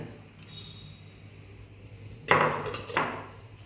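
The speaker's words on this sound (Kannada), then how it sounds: "ಈಗ ಒಂದು ಕುಕ್ಕರ್ಗೆ ಸೇರಿಸ್ಕೊತಾ ಇದ್ದೀನಿ." Washed lentils tipped into a pressure cooker for bisi bele bath give two short bursts of pouring clatter against metal near the end. A faint hiss and a single small clink come before them, and nobody speaks.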